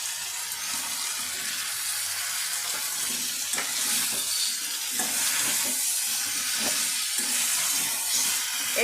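Potatoes, drumstick pieces and tomato sauté in a pan for a chicken curry, a steady broad sizzle running throughout with occasional soft stirring knocks, close and fairly loud.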